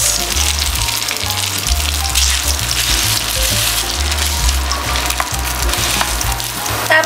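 Rice frying in melted butter in a pan, a loud, steady sizzle with occasional scraping stirs throughout, no voices over it.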